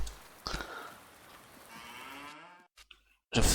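Cattle in a Farming Simulator 19 farm game, breeds differing, let out a drawn-out moo at moderate distance over a low ambient bed. A sharp thump and a brief burst of other game sound follow.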